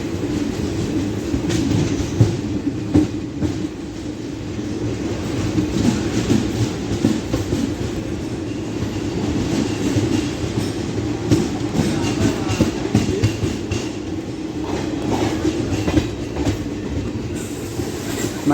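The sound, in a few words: train arriving at a railway platform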